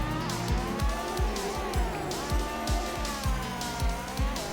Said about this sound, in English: Oh wow, that's a loud engine note